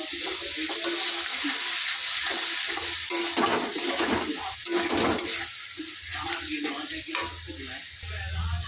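Ground spice paste with sour yogurt, chilli powder and turmeric fries in a pan, a constant sizzling hiss broken by stirring scrapes and wet bubbling, close and steady, with no speech.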